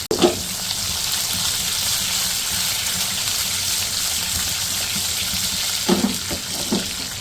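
Green chillies fry in a pan for a yogurt chilli curry, giving a steady close hiss with a few soft clatters near the end.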